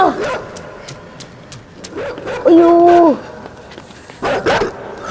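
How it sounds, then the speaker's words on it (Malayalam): Dog barking in the video game Inside, a few short barks at the start and again near the end, with a brief tonal game sound in the middle and a voice exclaiming over it. "ആ പട്ടി വരുന്നുണ്ട്"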